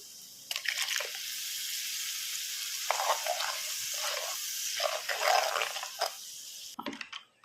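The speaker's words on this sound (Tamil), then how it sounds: "நமக்கு எவ்வளோ குழம்பு வேணுமோ அதுக்கு தேவையான அளவு நம்ம தண்ணி சேர்த்துக்கலாம்" Kerala fish curry with ground coconut and chilli powder simmering in a pan, a steady sizzle and bubbling broken by several louder splashing surges as water is poured in and stirred, close and alone.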